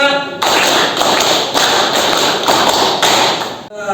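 Classroom of students claps in unison in short bursts, loud and close, with sharp rhythmic groups of claps separated by brief gaps.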